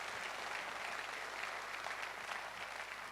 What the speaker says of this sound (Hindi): एक बार जोरदार तालियां हो नेस्विज आयोनाइजर के लिए।